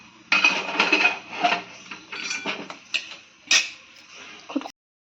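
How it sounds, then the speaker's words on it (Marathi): Dry coconut is pounded little by little in a small mortar and pestle for a cumin and garlic masala, giving a close series of irregular clattering knocks and grinding bursts that stop abruptly. "ते खोबरं आता खलबत्ता बारीक असल्यामुळे आपण थोडं थोडं वाटतोय सगळं"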